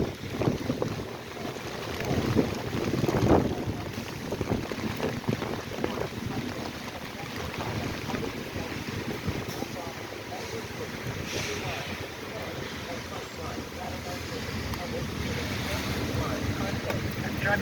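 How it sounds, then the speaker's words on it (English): Rain and gusty wind blowing outdoors on a chilly day, a steady broadband rush with wind buffeting the microphone, continuous and fairly loud throughout. "this rain is starting to come down and blow and toss and turn"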